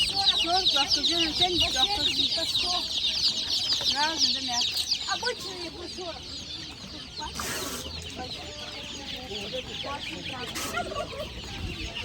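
Chickens and day-old chicks cluck and cheep densely at a busy poultry market, the bright chirping steady throughout while people talk and haggle nearby.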